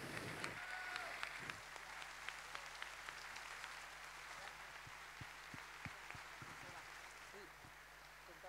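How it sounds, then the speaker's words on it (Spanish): Theatre audience at a musical tribute gala applauding in a distant, fairly faint wash of clapping, with a few sharper claps standing out and a steady low hum underneath. "este maravilloso aplauso que te van a dar el Teatro Baracaldo"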